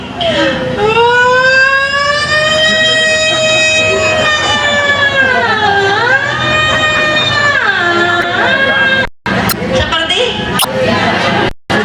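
A voice wails in a long, rising and falling siren-like tone, imitating a four-year-old child crying like an ambulance siren, continuous for several seconds with brief breaks near the end, at a crowded mosque gathering.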